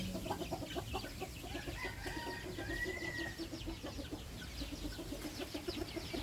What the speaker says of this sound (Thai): ส่วนตรงนี้ก็จะเป็นรังไก่